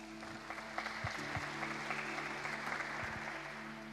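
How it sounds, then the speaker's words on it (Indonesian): A church congregation at a Sunday worship service applauds together, a soft, steady wash of clapping with a faint hum of instruments underneath. "Tepuk tangan untuk Tuhan."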